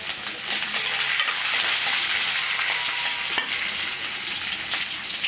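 Green chillies fry in a hot tempering of bay leaf, cinnamon, cloves, cardamom, garlic and ginger for methi rice, a steady close sizzle and crackle with occasional stirring clatter and no talk.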